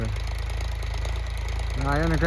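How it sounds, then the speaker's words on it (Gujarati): A tractor engine idles close by in a steady, low, even rumble that holds throughout, and a person starts talking over it near the end. "અત્યારે તો ટ્રેક્ટર શરૂ છે"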